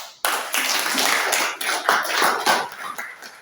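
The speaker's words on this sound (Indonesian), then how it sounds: "Tepuk tangan untuk kita semua." A small group in a classroom session claps after a group discussion presentation, starting abruptly, a close, uneven patter of hands that thins out and fades toward the end.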